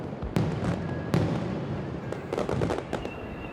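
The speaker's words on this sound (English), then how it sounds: "Japanese fireworks are famous for producing perfect circles, bursting one on top of the other like flowers blossoming." Japanese fireworks bursting at a summer display: sharp booming cracks, two strong blasts early then a cluster of crackling pops, loud and reverberant against constant crowd and outdoor noise.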